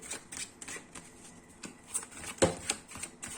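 Tarot cards are shuffled by hand, close and fairly soft, giving a run of quick riffling and slapping bursts with a sharper snap near the end, with no talking.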